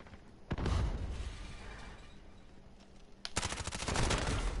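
Automatic gunfire in Call of Duty Modern Warfare: two bursts of rapid, evenly spaced shots separated by a short lull, the second burst longer and denser, loud and close.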